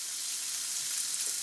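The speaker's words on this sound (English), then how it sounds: "we're going to sweat our onions, not really looking to brown them so much" Onions sweating in a pan give off a steady, even hiss of gentle frying, close and continuous with no talking.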